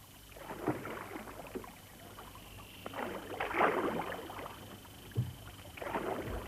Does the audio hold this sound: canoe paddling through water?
yes